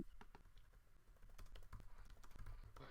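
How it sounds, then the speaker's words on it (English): Rapid, uneven keystrokes clatter on a computer keyboard as several people type in a chat during a podcast recording, with steady dense clicking throughout and no talk over it. "We're all typing in chat right now"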